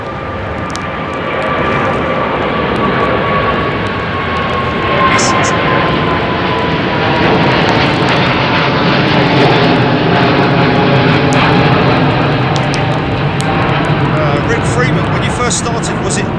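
Big aircraft engines at London Heathrow Airport under a low cloud base, a loud, continuous jet roar that swells and holds throughout with a faint falling whine, while people talk over it.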